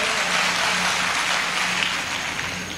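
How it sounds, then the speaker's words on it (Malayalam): An audience of teachers at a training program claps together in a hall, giving a steady, moderately loud wash of applause that tapers slightly toward the end. "ഒന്ന് കൈയടിച്ചു കൊടുത്താട്ടെ"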